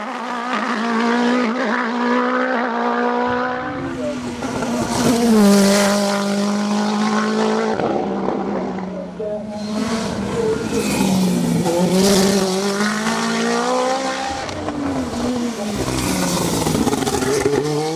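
A Nova Proto NP01 Turbo prototype race car at the Dunières hill climb, loud and close, its engine screaming up through the revs with repeated rapid gear shifts and brief drops as it charges up the course.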